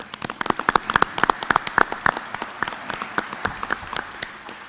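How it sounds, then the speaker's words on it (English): A small audience claps after thanks at a Maryland Municipal League meeting, the sparse, uneven hand claps close and fairly quiet, rising in a brief burst before tapering off across a few seconds. "Let's give them a round of applause."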